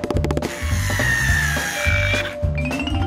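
A power tool driving screws into a wooden bed frame, with rapid buzzing bursts and whirring pulses interrupted by brief pauses, close and fairly loud.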